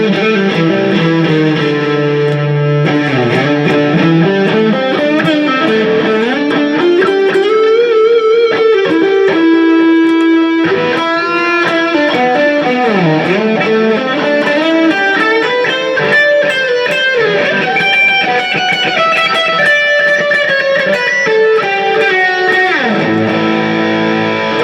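An electric guitar played through a Yamaha MG-M amplifier rings out loud and distorted, with sustained chords and bending lead lines sliding up and down over about twenty-five seconds, ending in an abrupt drop.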